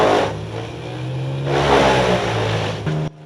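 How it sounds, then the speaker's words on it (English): Vermeer WC2500XL wood chipper with a 600 horsepower engine, a loud close engine roar that surges and revs up, holds heavy and steady, then cuts off abruptly near the end, with no talk. "WC2500XL, a 600 horsepower wood chipper built for serious work"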